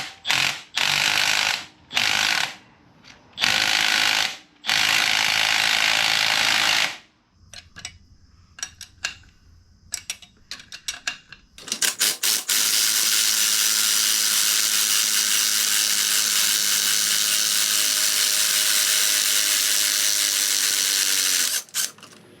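Power tools on a turbocharged Honda Civic's rear strut as it is broken down for coilover sleeves: loud bursts of rapid hammering and whirring, then scattered clicks and clanks, then a long steady high-pitched grinding whir.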